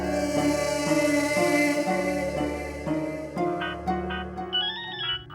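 A phone rings with a melodic ringtone, a short tune repeating over and over at steady volume, with no one talking.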